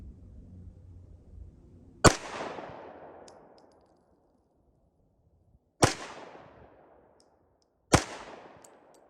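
Three sharp, loud reports from a Luger pistol ring out at a target, spaced a few seconds apart, each followed by a quickly fading echo, with silence between them.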